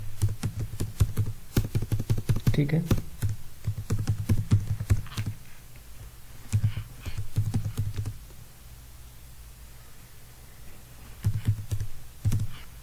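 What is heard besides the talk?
typing on a computer keyboard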